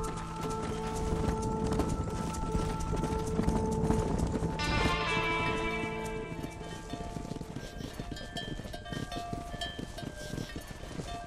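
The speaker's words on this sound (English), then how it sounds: "Control that horse, will ya? Keep it moving. That's a big herd." A big herd of horses on the move in Red Dead Redemption gives off a steady stream of clip-clopping hooves, with whinnies rising above them partway through, busy and fairly close.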